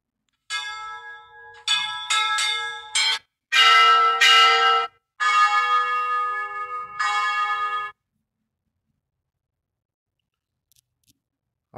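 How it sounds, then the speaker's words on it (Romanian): Recorded church bells play from an app on a tablet, a series of clear, close bell strikes in short bursts with ringing tones, then the sound stops and silence follows. "Aici ascultați clopotele pe care vreți să le"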